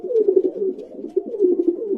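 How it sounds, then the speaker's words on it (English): A pigeon coos steadily and close by in a soft, low, rolling series of repeated calls with no other sounds. "The pigeon settled down on Bibi Zainab's prayer mat and joined her to pray"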